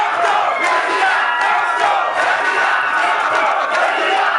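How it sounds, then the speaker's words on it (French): Jubilant crowd at a Maurice Kamto rally on a church esplanade in Bafoussam, Cameroon, chanting his name: a dense, continuous roar of many voices shouting in rhythm, loud and sustained throughout. "Escorté par un foule en liesse qui scande son nom, Maurice Kamto"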